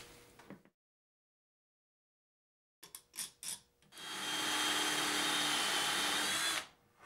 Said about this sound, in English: drill the matching set of holes in the bottom side of the shelf board